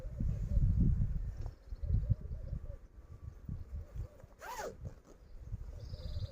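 A beekeeping mask veil gets zipped up in one quick rising zip near the middle, amid nearby rustling and handling of fabric, with faint speech around.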